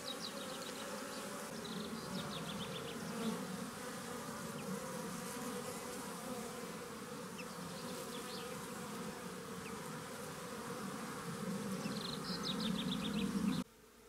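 Steady, dense buzzing of many honeybees around a goat willow, continuous and fairly close, with faint higher insect whines drifting in and out.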